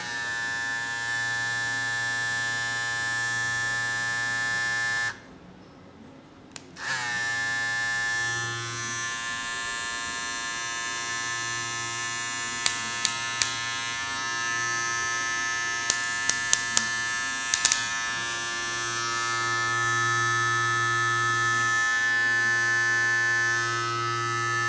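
An Andis Phenom hair clipper runs close and loud with a steady electric buzz and hum, cutting off briefly and then ramping back up to full speed, with a few faint clicks later on.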